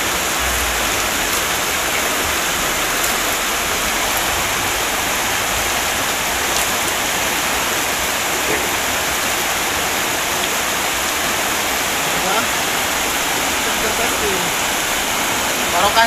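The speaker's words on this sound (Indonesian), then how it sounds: "Kita coba dulu bagaimana dari air, dari mata air sumur juga berada di pinggir sungai Sarawak" Spring water from a well beside the Sarawak river in Ancaran village, Kuningan, rushes and splashes in a steady, dense wash of noise that holds unbroken at an even level throughout.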